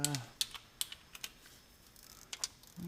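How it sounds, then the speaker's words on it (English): A torque wrench tightens bolts on a 7.3 Powerstroke tow rig, giving a series of sharp, irregular clicks, quiet and close, with brief murmurs of a voice at the start and end. "go ahead and torque these suckers up"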